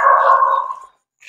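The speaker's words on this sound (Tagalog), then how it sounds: "siyempre narinig nyo, may mga aso." A dog at an NHA low-cost housing site gives one drawn-out, fairly close bark or yelp lasting almost a second. Silence follows.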